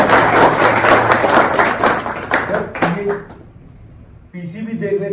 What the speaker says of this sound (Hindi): ताली बजा दीजिए सर।